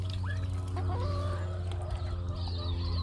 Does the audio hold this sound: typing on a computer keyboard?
no